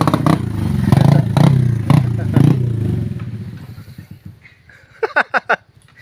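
An enduro motorcycle engine revs in several loud, rough bursts, then falls to a lower idle with a few sharp clattering blips near the end, while voices are heard nearby.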